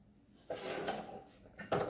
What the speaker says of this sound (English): it's a hard drawer.